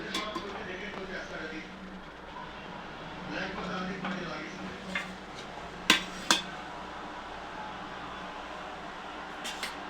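Egg biryani is served from the pot onto a plate with soft spoon scrapes and rustles, punctuated by two sharp metallic clinks midway, while someone talks nearby.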